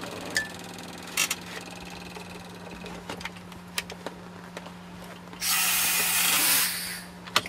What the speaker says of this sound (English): with these two handles you can tighten it in the steering wheel here